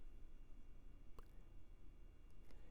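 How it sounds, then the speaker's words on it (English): A low, constant whirring hum of a computer fan fills the background, faint and steady, with a couple of tiny soft clicks. "You can hear my computer fan in the background."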